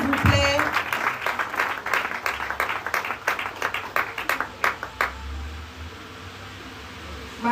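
An audience at a certificate award ceremony claps as an honoree is called up, scattered rhythmic hand claps that thin out and stop after about five seconds, leaving a low hum and faint background noise.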